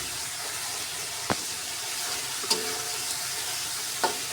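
A biryani base sautéing in a hot pan, giving a bright, continuous sizzle with a few sharp clicks of a stirring utensil against the pan.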